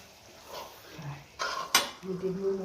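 A spoon stirs turmeric sabji in a cooking pan, making soft scrapes and a few sharp metallic clinks, fairly quiet.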